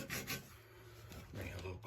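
A potato rubbed over a rusty cast iron skillet gives faint, rasping scrubbing strokes in a quick back-and-forth rhythm, heard close up and quiet.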